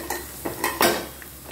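Half a cup of garlic goes into hot oil for amla pickle and is stirred, giving a short burst of sizzling with a few quick, close spatula scrapes against the pan.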